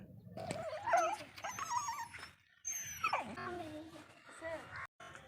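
An injured stray dog lying on sand whimpers and yelps in high, wavering cries, close and fairly faint, with people talking over it.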